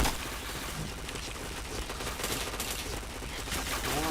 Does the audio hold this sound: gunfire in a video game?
yes